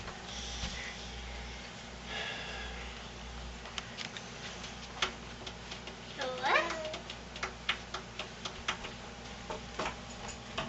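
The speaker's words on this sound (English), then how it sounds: "See the cat? Cat? What's the cat say?" A cat gives a brief meow midway, set among light ticking and tapping clicks in a quiet room, with faint voices in the background.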